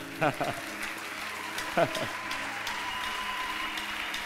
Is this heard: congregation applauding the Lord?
yes